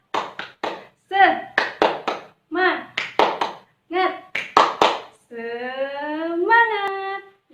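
Rhythmic 'tepuk semangat' clapping ice-breaker in a fifth-grade class, a teacher leading short bursts of patterned hand claps mixed with chanted syllables, ending in a sustained cheer-like voice; close and clear.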